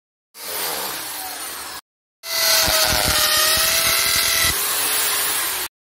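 An iBELL impact drill bores into a piece of wood, whining loudly in two bursts with a short pause between them, the second burst carrying a rapid hammering rattle before cutting off.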